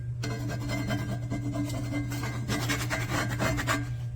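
Close, steady scraping on a Lodge pre-seasoned cast iron skillet, a rough rasping rub repeated in quick strokes with a constant low hum underneath, no talking.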